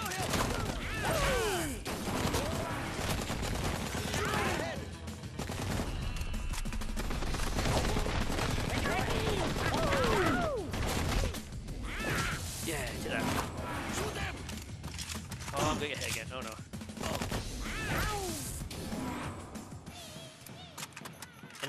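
Rapid video-game gunfire in Blue Estate, bursts of shots crackling over a busy action soundtrack with mechanical clatter, while a player talks over the shooting.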